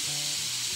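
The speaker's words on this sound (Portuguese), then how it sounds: "vou tirar a pressão" Steam hisses steadily from a pressure cooker as the pressure is released after cooking beef tongue, a loud continuous airy rush with a faint low tone beneath it.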